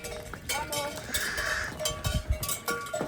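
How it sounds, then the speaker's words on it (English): A herd of cows passing along the Camino trail in rural Galicia, with clanking cowbells, hoof clatter and faint lowing close by, alongside some brief human voice. "another herd of cows coming by"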